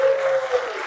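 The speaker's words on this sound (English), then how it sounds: "Give him a round of applause, will you?" A brief burst of audience clapping for a film's composer at a screening at the Epstein in Liverpool, short and moderately loud, with a steady tonal hum running beneath it.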